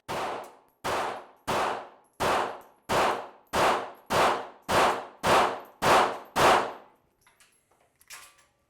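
Ten rapid shots from a pocket concealed-carry handgun such as a SIG P365 at a range, loud sharp cracks in an even rhythm about two-thirds of a second apart, followed by faint clinks and a softer handling noise.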